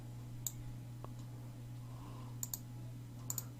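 Computer mouse clicking at a desk during spreadsheet-style software work: a few sharp, isolated clicks, some in quick pairs, spaced across a steady low electrical hum with no talking.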